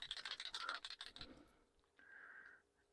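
A bottle of resin colour is shaken by hand in a quick burst of close, rattling clicks lasting about a second. The rattling then stops, leaving a quiet room with a faint brief tone.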